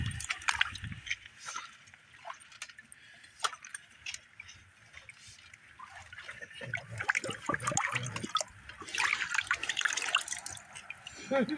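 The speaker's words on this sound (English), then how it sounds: "Let me rinse it off and see what he got." An old bottle rinsed in a small creek: splashing and trickling water with scattered drips and knocks, close by, while people talk over it at times.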